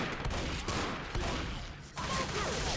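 Gunfire in the zombie shooter game Left 4 Dead, a dense, continuous fusillade of overlapping shots from several weapons that stays loud throughout without any talking.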